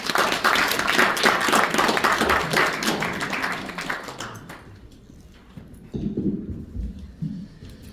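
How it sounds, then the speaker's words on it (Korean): An audience at a Korean business forum bursts into loud, dense applause to welcome a speaker. The clapping fades after a few seconds into quieter scattered claps and room noise. "큰 박수로 맞이해 주시기 바랍니다"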